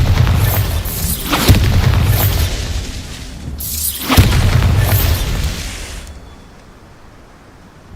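Bombarda spell explosions in the Hogwarts Legacy video game, two loud booming blasts several seconds apart, each followed by a long crumbling, shattering rumble that fades out, with no talk.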